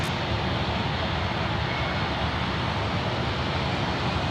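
Jetstar Airbus A320 airliner at Sydney Airport, a steady broadband engine roar held at constant loudness throughout, fairly close and with no talking over it.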